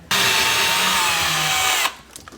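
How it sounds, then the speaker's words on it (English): A power drill bores a hole for cabinet hardware, a steady close whine and grinding that runs for nearly two seconds, then cuts off abruptly, leaving quiet handling noise. "I'll show you that in a second when I drill the second hole."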